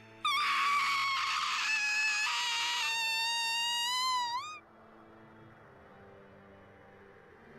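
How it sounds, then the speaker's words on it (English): A long, shrill scream in the video game Psychedelica of the Ashen Hawk holds for several seconds, wavering in pitch before breaking off, loud and alone over a faint background hum. "Man, the amount of screaming."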